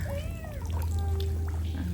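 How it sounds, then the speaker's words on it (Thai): A cat meows near a sea outing with a family, a few rising and falling cries over a steady low rumble and faint watery sounds. "แมวมา"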